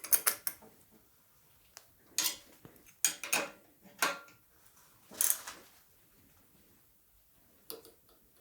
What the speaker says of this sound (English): I'm gonna use the same technique basically with the threaded rod, and hopefully I can just push the outer races into the frame.